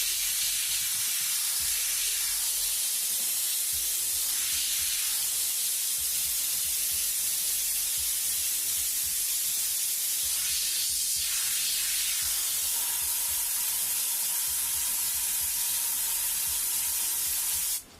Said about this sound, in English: So we get a nice wide spray as well as up close